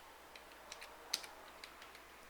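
Quiet typing on a computer keyboard, a loose run of soft clicks with one sharper key strike near the middle.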